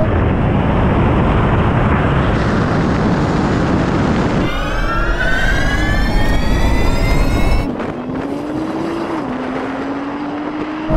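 A drag race launch between a roughly 1000-horsepower rally car, a Porsche 911 Turbo S and a GTR. A loud, dense roar gives way to rising engine whines climbing in pitch, then a quieter, steadier drone.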